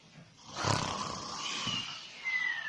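A person does a voice imitation of the Gruffalo snoring: one drawn-out, growling snore close to the listener, rising into a rough roar and trailing off into a breathy rumble.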